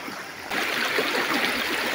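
Strong current of water rushing toward Banahaw spring in Merida, Leyte, a steady loud broadband flow that swells suddenly about halfway through and continues without talk.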